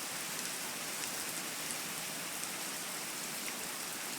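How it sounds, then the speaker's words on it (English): Heavy, steady rain pours down during a flood, a dense, unbroken hiss of water on surfaces that stays constant throughout, with no voices. "And it's going to keep raining."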